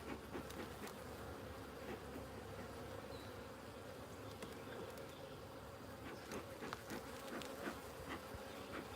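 Honey bees buzzing around an opened beehive during a weekly inspection, forming a soft, continuous drone with many overlapping wingbeats close by.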